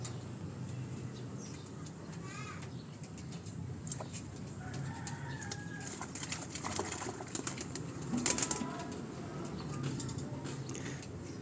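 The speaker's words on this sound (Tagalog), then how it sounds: "Ito nga pala yung mga stock bird ko." Domestic pigeons, stock breeder cocks and hens in a loft, coo and cluck softly in an ongoing low murmur, with a few brief sharper calls standing out over steady background noise.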